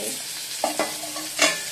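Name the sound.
fish frying and bubbling in oil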